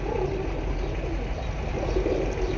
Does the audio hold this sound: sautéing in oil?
no